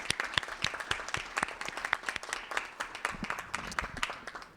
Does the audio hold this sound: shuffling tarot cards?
no